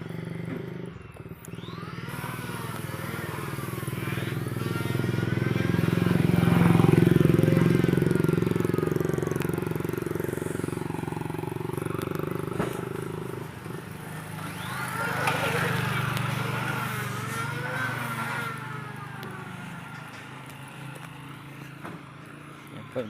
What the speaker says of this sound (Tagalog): Yan po yung mga motor, mga tropa natin North Loop.